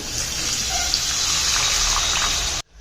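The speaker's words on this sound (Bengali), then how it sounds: "মশলাগুলো যাতে পুড়ে না যায় এর জন্য এখানে দিয়ে দেব অল্প একটু জল" A little water is poured into spices frying for chicken curry, a steady close splashing gush that runs for over two seconds and then cuts off abruptly.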